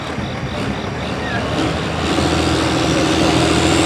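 A John Deere 6030 tractor roars at a tractor pull in Kempton, Pennsylvania, its loud, steady engine noise filling the outdoor air and swelling slightly halfway through.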